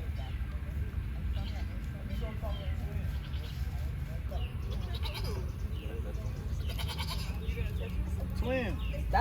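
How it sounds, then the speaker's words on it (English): Sheep on a farm bleat a few times among other farm animals, including one clear rising bleat near the end, while people talk and children chatter throughout. "Yeah, it's a sheep."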